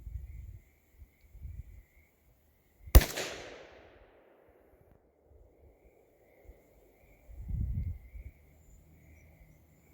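A Savage 93G .22 Magnum rifle firing Hornady and CCI ammunition lets off one loud, sharp crack that trails into a brief echoing decay. Quiet outdoor stillness and a few low thumps surround it.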